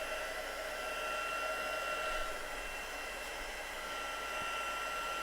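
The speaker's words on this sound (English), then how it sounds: "So bring in my heat gun. I'm going to heat it up." A heat gun running continuously, a steady loud blowing whoosh with a constant motor whine and no breaks, alone without talk.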